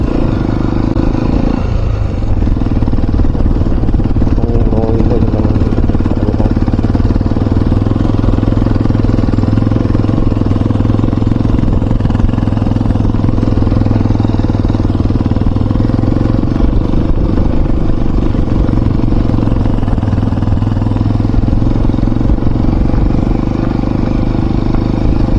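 A Hero Xpulse 210 motorcycle rides along a rough road, its engine a steady loud drone with rattling and clatter from the rough surface throughout, close and continuous.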